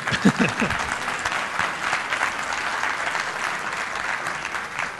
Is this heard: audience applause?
yes